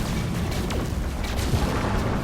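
A phase cannon fires in No Man's Sky space combat, giving a continuous low booming roar with rumbling bursts. It sits close and loud, with no talking.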